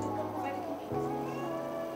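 A pet cat gives a soft, short meow at close range, faint under household background noise and light talk.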